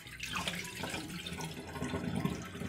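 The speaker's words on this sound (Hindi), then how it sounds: "इसका पानी जो है मैं गिरा दूँगी" Water splashes and trickles steadily as it is drained by hand from soaked rice being rinsed for chicken biryani, a close continuous pour with no speech.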